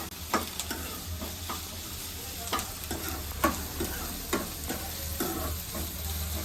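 Onions frying in a pan for egg fried rice, a steady sizzle broken by regular sharp scrapes and clacks of stirring, close up and with no voices.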